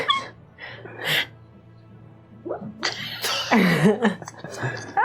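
A sleeping dog lets out muffled whimpering barks and snorts in short bursts, fairly close, with a faint steady hum behind them.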